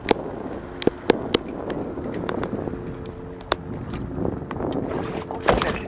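A jet ski speeds across the open sea off Turkey, its engine a steady rushing drone mixed with wind and water noise, broken by a few sharp slaps and bangs as the hull hits the waves.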